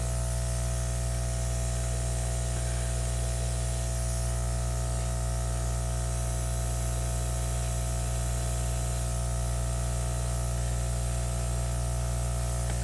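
An airbrush sprays over an acrylic pour painting, producing a steady, continuous close hiss that runs unbroken with a constant low hum underneath and no talk.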